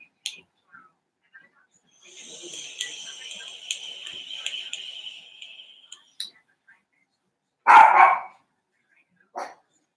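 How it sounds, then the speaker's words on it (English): A pet dog barks indoors, restless because it can't go outside on a windy day: a loud burst of barking near the end, with a soft whispery noise and faint short sounds earlier in the clip. "My dog's barking."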